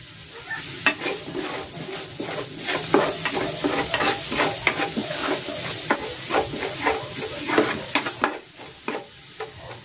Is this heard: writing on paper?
no